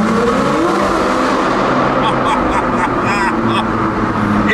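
An 850-horsepower supercar engine roars loudly and continuously, close by, with a dense, steady wash of sound through the whole stretch as people talk over it.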